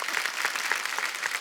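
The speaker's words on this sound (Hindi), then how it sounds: "जोरदार तालियां" Brisk, dense applause from a television comedy show's studio audience, a continuous crackling patter at steady loudness with no talking over it.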